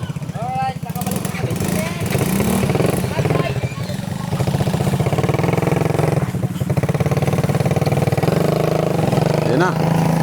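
A motorcycle with a modified exhaust pipe revs loudly and continuously nearby, its engine roaring and rising in pitch, while voices shout faintly over it.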